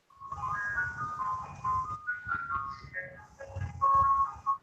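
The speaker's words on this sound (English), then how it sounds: "Sounds like the ice cream truck." An ice cream truck plays its electronic jingle, a tinny looping melody of bright beeping notes coming from the street, with a low rumble and murmuring voices underneath.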